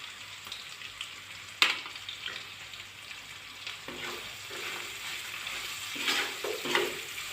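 Two dry red chillies fry in hot oil, a close, crackling sizzle with stirring scrapes and a sharp clatter, rising in bursts while a fish head curry is cooked.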